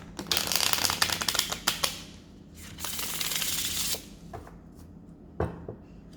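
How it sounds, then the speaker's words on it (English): Cards are shuffled and drawn from a deck in a close, rapid riffling clatter, a pause, then a second burst of shuffling followed by a few single flicks. "So first I'll take a card for William and then for Charles"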